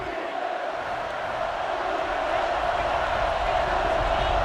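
A stadium crowd in the NCAA Football 09 video game roars steadily on a 3rd-and-short play, a dense, continuous wash of cheering that sits underneath a commentator's voice.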